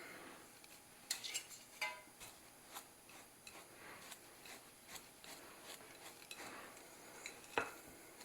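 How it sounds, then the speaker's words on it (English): Ingredients with cloves being mixed together in a bowl or jar, quiet scraping and rubbing with a series of light ticking and clinking taps at an irregular pace, close and faint, with no talk. "is just mix all this up together."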